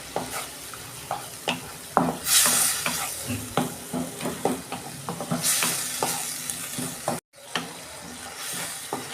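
Spices, chopped tomato, green chilli and a little salt sizzle loudly in a pan for a prawn and cauliflower dish, with rhythmic scraping stirs and two bright bursts of hissing, then a brief dropout near the end.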